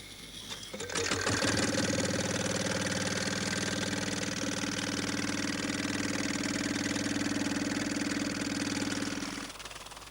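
Stirling engine used for irrigation pumping, running steadily for about eight seconds with a sustained mechanical hum and a fast repetitive clatter, starting abruptly and cutting off near the end, loud and close with no talking.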